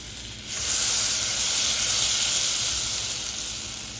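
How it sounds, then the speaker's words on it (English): Butter melting in a saucepan gives a steady hissing sizzle that swells up after a moment and holds evenly before easing slightly, close and continuous with no speech. "3 tablespoons of butter in a saucepan along with 1 tablespoon of butter. We're going to melt that."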